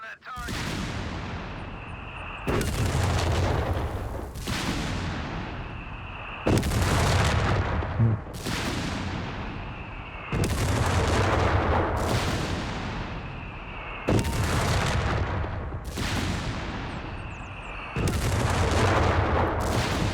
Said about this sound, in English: we're going to see how it goes here on its barrage against a machine gun at max range